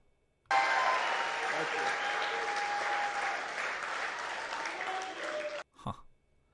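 Sustained crowd applause at Donald Trump's 2024 presidential campaign announcement, a full steady roar of clapping with some cheers that stops abruptly, followed by a brief throat-clearing sound.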